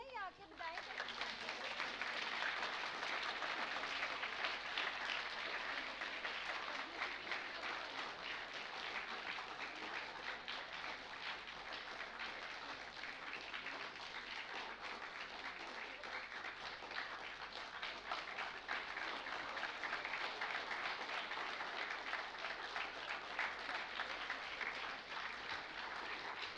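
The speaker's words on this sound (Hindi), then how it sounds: "बेटा तालियां बजानी आती नहीं है या आके बजाएं?" Students at a school Hindi debate competition for classes 9 and 10 clap steadily throughout, a dense continuous wash of applause from a room full of hands that stays loud and even the whole time.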